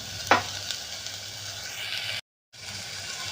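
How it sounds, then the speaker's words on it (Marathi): Vegetables with garam masala sautéing for veg pulao, a continuous close sizzle with a few spatula scrapes, briefly cut to silence before resuming. "आता हे छानपैकी आपण परतून घेऊयात."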